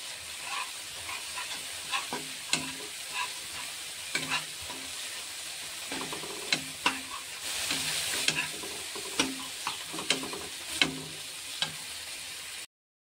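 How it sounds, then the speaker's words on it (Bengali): Spice paste fries in oil for a hilsa fish biryani while a spoon stirs it, giving repeated close scraping strokes over a soft, continuous sizzle that cuts off abruptly at the end. "তেল বেরোতে, মশলা থেকে তেল বেরোতে শুরু করেছে।"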